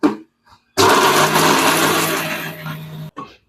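A mixer grinder grinds roasted gram and drumstick leaves into batter in one loud, close whirring run of about two seconds, between short clicks as it starts and stops.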